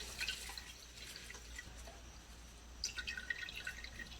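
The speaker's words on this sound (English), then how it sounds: "I have a strainer because I am going to discard the rice that is in there. I'm just going to pour that into the bowl." Rice water pours through a strainer into a bowl, giving soft trickles and drips that come in two short bursts separated by a quiet pause.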